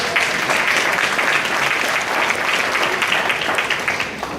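A crowd at a middle school honors banquet claps for a student, a thick, even wash of hands lasting several seconds, loud and near, with no speech over it.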